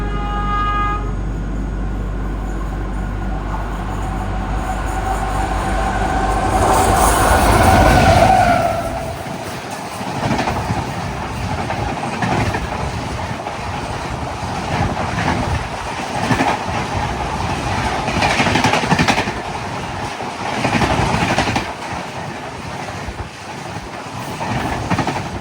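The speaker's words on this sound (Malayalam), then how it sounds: "നമ്മുടെ മഡ്ഗാവ് മുംബൈ CSMT മണ്ടോവിയാണ് ഇപ്പോൾ പോയത്." Madgaon–Mumbai CSMT Mandovi Express on the Konkan line rushing past close by, a loud horn toot followed by rolling wheel clatter and rhythmic clickety-clack as the coaches go by.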